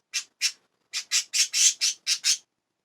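A pet budgie in a new cage gives a run of nine sharp, shrill squawks, two spaced apart and then seven in quick succession, loud and close with silence between them.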